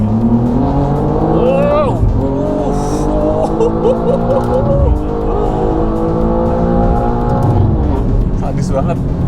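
A tuned BMW M2 with valvetronic exhaust, water-methanol injection and JB4 tuning accelerates hard from second gear, its engine note climbing loudly and continuously through revs and shifts, heard from inside the car with a brief exclamation over it.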